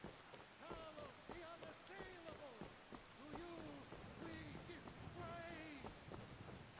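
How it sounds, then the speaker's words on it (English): Rain falling in the Requiem video game, a steady soft patter across the whole stretch with faint tonal calls and murmured talk drifting over it. "It's raining in the game"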